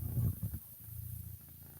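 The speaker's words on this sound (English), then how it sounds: "Oh, I hear some scratching, sniffing, and purring" A cat purring close by, with a low, rough rumble that pulses strongest at the start and then settles into a quieter steady purr, no voices.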